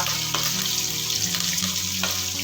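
Garlic, onion, curry leaves, bay leaf, star anise and cardamom sauté together in a hot pan, giving a steady close hiss with a couple of soft stirring scrapes.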